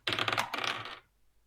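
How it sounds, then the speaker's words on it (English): Physical dice rattle and clatter across a surface during a tabletop role-playing game, one quick close burst of clicks lasting about a second before fading out. "I'm rolling physical dice."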